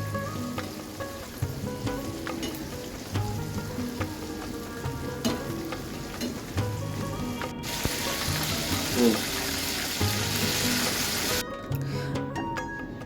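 Chicken pieces fry in hot oil KFC-style, a continuous sizzle and bubble with occasional stirring clinks, growing louder and denser midway.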